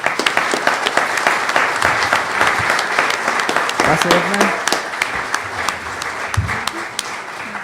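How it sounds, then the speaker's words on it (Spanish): Loud, continuous audience applause rises at a molecular genealogy conference, fading slightly toward the end as a speaker begins talking over it. "recibimos con un aplauso a Edna"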